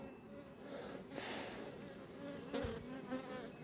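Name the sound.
honeybees buzzing around hive colonies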